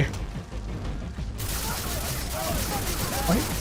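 Gunfire in the Far Cry 3 video game, a dense, continuous rattle of shots with mechanical clatter, loud and close throughout, a few faint whistling tones near the end.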